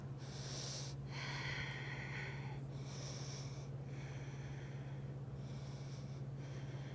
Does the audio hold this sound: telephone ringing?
no